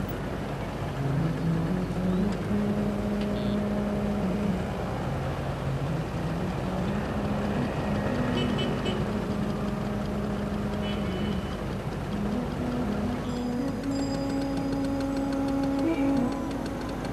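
Ongoing road traffic with car engines droning and rising in pitch as vehicles pass, a dense continuous rumble with faint ticking and horn-like tones over it.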